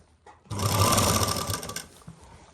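A sewing machine stitches a sleeve onto a garment in a tailoring lesson, starting with a loud, fast continuous run of needle clatter that lasts over a second, then slows and fades to quiet.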